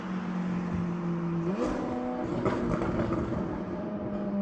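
A powerful Audi RSQ8 exhaust rumbles and rises in pitch as it revs, loud and close, then holds a steady growl.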